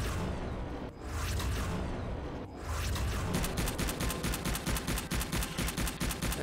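Level 1 grenades going off in the video game Subterrain: a loud, dense run of blasts and crackling bursts that builds into rapid, rattling repeated bangs, with no voices.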